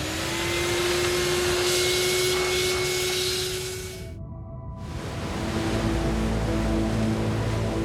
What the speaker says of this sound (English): I've got some hoovering to do.